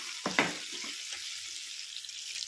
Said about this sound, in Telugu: బనానా ఫ్రై కూడా చేస్తున్నాను.